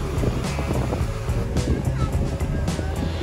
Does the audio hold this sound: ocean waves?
yes